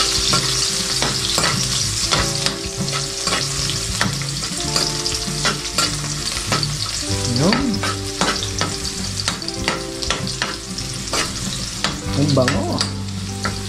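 Garlic sizzling loudly in hot oil in a pan while being stirred, with rapid scraping and clinking of the utensil throughout and a brief spoken remark.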